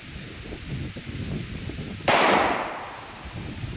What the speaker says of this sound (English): This is probably the lightest weight 9mm bullet I've ever shot.